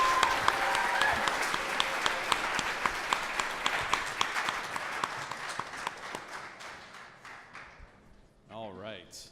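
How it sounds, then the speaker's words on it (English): A crowd at a 2019 startup pitch final applauds a team, dense clapping that stays strong for several seconds and then thins into scattered claps and fades out, with a voice speaking briefly at the very end. "round of applause for Threads of Hope"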